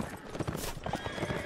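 Horse hooves clip-clop in the video game Mount&Blade: Warband, a quick run of nearby hoofbeats with a whinny mixed in against a busy background.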